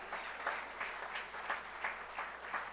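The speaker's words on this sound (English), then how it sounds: "go ahead and clap" An audience at a school governing board meeting claps briefly, a soft, somewhat distant patter of hands swelling in gentle waves.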